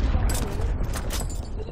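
Bursts of rapid gunfire in a video game crackle through a short, busy stretch of combat noise, with a voice faintly under the shots.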